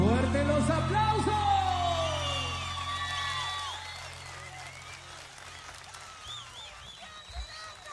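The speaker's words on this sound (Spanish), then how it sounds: "¡Fuerte los aplausos!" An audience at a live outdoor folk music festival applauds, a dense wash of clapping beneath a voice and sustained musical tones that fade out, the clapping thinning toward the end.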